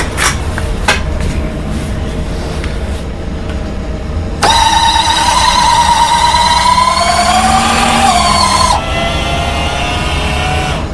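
Landing gear retract mechanism on a B-29 model whirs in a steady high-pitched electric motor tone for several seconds, starting abruptly and cutting off, preceded by a few clicks.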